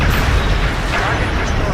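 A starship blown apart by an explosion in the Star Trek Legacy video game, a loud sustained roaring blast that fills the whole moment with heavy rumble and crackle, with a voice speaking over it.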